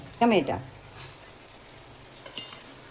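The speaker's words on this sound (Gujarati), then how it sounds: "ટમેટાને આપણે હવે સાતળવા દઈએ" Tomatoes sautéing in a pan over onion, ginger, chili, garlic and cumin for paneer bhurji, a soft steady sizzle running throughout after a brief voice at the start.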